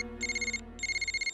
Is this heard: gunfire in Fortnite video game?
no